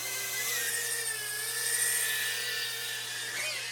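BetaFPV FPV whoop racing drone lifting off, its tiny motors giving a steady high-pitched whine that rises and wavers slightly with throttle, close and continuous with no talking.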